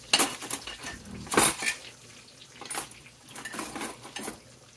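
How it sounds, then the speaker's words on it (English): A metal fork scrapes and clinks against a pan while turning beef patties searing in it, giving close, irregular clatters and scrapes over a soft sizzling hiss, with no talking. "Let me get a fork to help me turn these."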